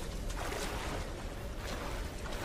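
Steady wash of water and rolling waves from the Tomb Raider video game, a soft continuous surf with gentle swells rising and falling, no voices over it.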